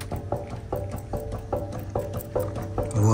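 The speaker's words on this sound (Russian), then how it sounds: "Вот это звук изношенного подшипника." A worn wheel hub bearing on a Lexus GX or Toyota 4Runner makes a close, rhythmic grinding click, about two clicks per second, repeating steadily as the wheel turns by hand, with no voices.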